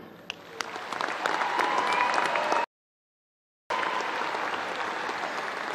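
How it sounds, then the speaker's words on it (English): A large crowd at a fall university commencement ceremony breaks into sustained, steady applause that fills the hall, interrupted by a second-long dropout before the clapping resumes. "Please join me in a round of applause for our new ASU alumni."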